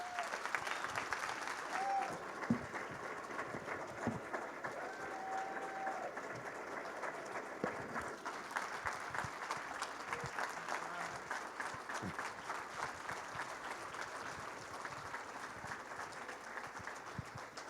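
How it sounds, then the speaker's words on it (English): Sustained applause from a seated gala audience fills the room at a steady level, dense clapping throughout with a few faint voices mixed in. "everybody in this room take a moment and give Bruce a round of applause for his work"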